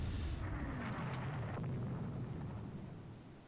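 Torpedo explosions striking ships in the naval strategy game Rule The Waves 2, a single broad booming blast that rumbles and slowly fades, heard alone with no talk.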